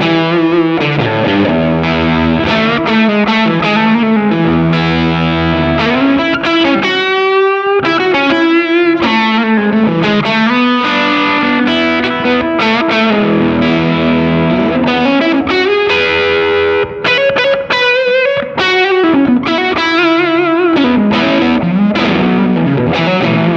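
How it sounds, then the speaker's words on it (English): Electric guitar is played through a boutique Fuzz Face fuzz pedal, giving loud, thick, saturated sustained chords and bends with a buzzy distorted edge, continuous and upfront, with no talking. "You have a fuzz pedal."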